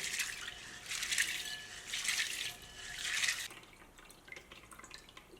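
Soybeans are rinsed in clean water in a home kitchen, with three soft bursts of swishing and dripping water in a steady rhythm, followed by quieter trickles and small splashes, close and faint, with no talk.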